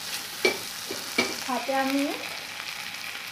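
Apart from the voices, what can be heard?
frying chopped tomatoes in a pan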